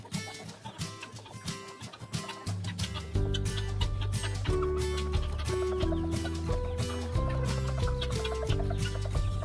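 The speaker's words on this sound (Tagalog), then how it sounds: "meron tayong mga guinea fowl" Adult guinea fowl on a poultry farm give clucking, fowl-like calls that sit under steady background music throughout.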